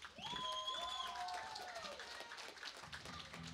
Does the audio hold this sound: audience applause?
yes